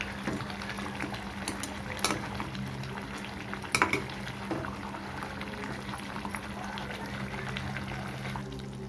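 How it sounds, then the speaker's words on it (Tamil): Coriander leaves being stirred into a thick crab gravy in a pan, a steady bubbling sizzle with scattered spoon scrapes and clinks, one louder cluster near the middle. "இப்போ லாஸ்ட்டாக மல்லி இலையை போட்டுக்கலாம் அதையும் ஒரு பரட்டி பரட்டிக்கலாம்"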